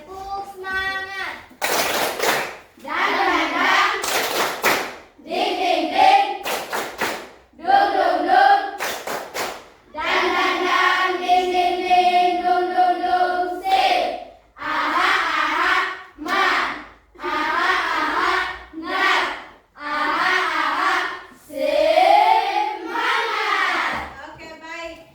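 A classroom group of children claps together in a rhythmic, spirited clap pattern, bursts of hand claps mixed with their shouting and chanting voices, loud and close, with an adult voice also talking.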